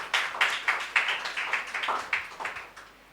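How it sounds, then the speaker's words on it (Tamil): At a Christmas special debate, a group claps in a steady unison rhythm, about a dozen crisp, evenly spaced beats, loud and close, before fading out. "மறுபடியும் ஒரு தடவை கைத்தட்டுங்க"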